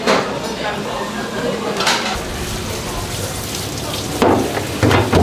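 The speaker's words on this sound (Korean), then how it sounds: "설거지도 사장님이 하시네요" Dishes and utensils clatter and clink in a sink with running water, steady and close, with a few sharper knocks toward the end.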